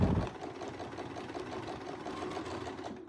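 A quilting sewing machine running a Westalee Spin E Fex ruler stitches side to side with a quiet, steady mechanical chatter, its rapid needle strokes repeating evenly and closely miked.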